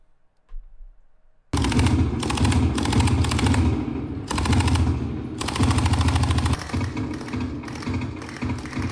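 Rapid, loud automatic gunfire sound effect in a World of Warcraft arena setting, starting abruptly after a quiet moment and continuing as a dense, sustained burst with brief dips, with no talking over it.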